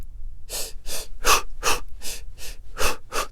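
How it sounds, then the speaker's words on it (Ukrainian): A person demonstrates an intense running breathing rhythm, with about eight sharp, forceful breaths in quick succession, close to the microphone and without speech. "Це самий інтенсивний темп дихання."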